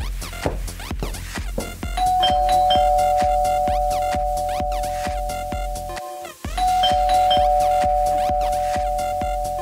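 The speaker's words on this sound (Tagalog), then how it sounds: "Kanina pa kaya ako nagdo-doorbell" A doorbell chimes over and over in a house where loud music with a steady beat plays throughout, the ding-dong tones sitting clearly above the thumping track, which briefly drops out before resuming.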